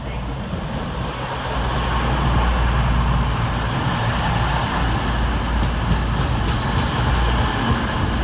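A five-coach East Midlands Railway Class 222 passenger train rumbles steadily nearby at Leicester station with a deep, continuous low drone and faint metallic rattles, as heard from the platform.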